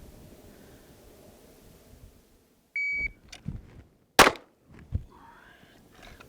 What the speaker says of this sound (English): It's going to be draw and fire 1 round